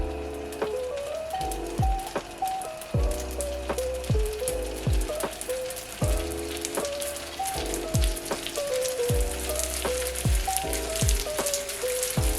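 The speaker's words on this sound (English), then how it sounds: "Sizzle, sizzle, look at that." Sushi bake roll wrappers crisping in a hot pan, a continuous close crackling sizzle with scattered pops, while music with a repeating melodic pattern plays along throughout.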